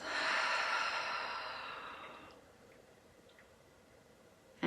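One long breath pushed out through the mouth in a guided relaxation session, a close, airy exhale that fades away over about two seconds and leaves near silence, with a small tap right at the end.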